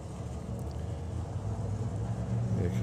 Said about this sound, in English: As the tow car